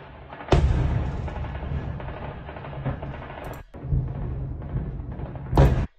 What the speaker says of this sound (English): Ukrainian soldiers used the automatic rifles, and also there were some booms